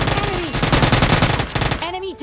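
A fast automatic burst of gunfire shoots an enemy in PUBG Lite, loud and rapid for about two seconds before tapering off, with a voice talking over it.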